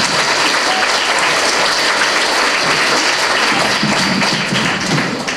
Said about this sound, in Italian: Un altro applauso ai nostri attori delle seste,